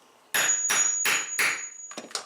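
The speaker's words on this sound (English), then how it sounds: "This will be the loud part, and then you're going to hammer." A metal rivet is hammered to set it, four loud, evenly spaced sharp strikes followed by two quicker, lighter taps, close up with no talking.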